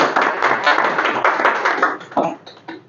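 Applause from an audience at a Spanish-language talk on political ecology, dense steady clapping for a couple of seconds, then thinning into a few scattered claps and taps near the end.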